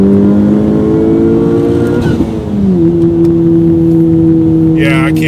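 A 2020 Honda Civic Type R with aftermarket mods runs with a steady engine drone that shifts pitch partway through as revs change, loud and close throughout, with a brief faint higher whine near the end.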